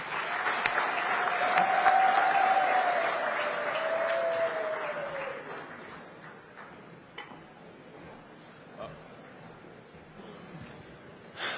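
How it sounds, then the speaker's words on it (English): Delegates and guests at a SADC heads of state summit applaud, a broad round of clapping with a faint whistle or cheer that swells for several seconds, then thins to scattered claps and fades. "may I request the audience to just give us 2 rounds of applause, one for Angola"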